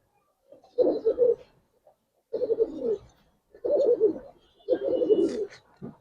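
Giribaz pigeons cooing close by, four separate throaty, warbling coo phrases with short pauses between them in an otherwise quiet setting.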